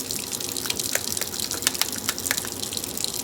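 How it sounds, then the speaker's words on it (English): Water splashes and trickles steadily onto a makeup brush cleaning cake, a close, continuous pour with small droplet spatters. "I'm going to throw a little water in there."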